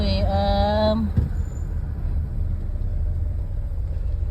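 Morning traffic in Sutton Coldfield town centre, with a bus air brake hissing loudly at the start, followed by the low steady rumble of cars and buses passing close by.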